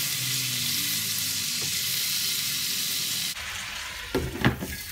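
Chicken sizzles steadily in a hot pan, a close continuous frying hiss, then shifts to scraping, clattering stirring sounds as the pieces are mixed, with no talking.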